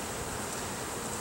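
Honey bees drone around a hive that is doing well after winter, a soft continuous buzz heard briefly and faintly with no voices.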